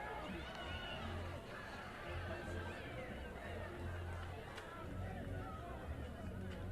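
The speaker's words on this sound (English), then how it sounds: "Crowd has filed in a bit, Rich, over here, off to the side of the Sooner dugout" A baseball stadium crowd at a college game between Santa Clara and Oklahoma murmuring in a steady, diffuse hubbub of distant chatter, with no single voice standing out.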